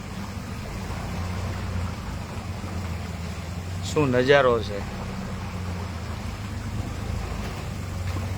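A boat cruises along the AVM canal in Kerala, its engine making a steady low drone with water wash throughout, while one voice briefly exclaims partway through.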